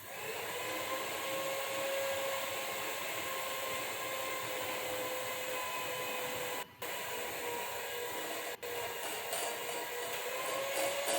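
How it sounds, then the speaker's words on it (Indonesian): An electric mixer runs at low speed through red velvet batter with cocoa and baking powder, a steady close motor whine and hum that lasts throughout with two brief cut-outs, no speech. "Ini kita aduk aja sampai dia tercampur rata menggunakan kecepatan rendah aja."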